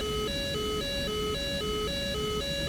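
A radar warning receiver in the DCS flight simulator game sounds a loud electronic warble that alternates between two pitches. The tone cycles in a fast, regular rhythm with no talking over it.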